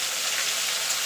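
A ground paste of tomato, green chili and ginger hits hot oil for a Bengali rohu fish curry with potato and cauliflower, giving a steady, loud, hissing sizzle with no pauses.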